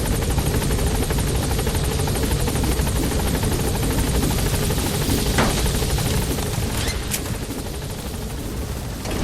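A helicopter in Metal Gear Solid V: The Phantom Pain drones with loud, continuous rotor thumping and engine roar that fills the whole stretch, close and steady with no voices.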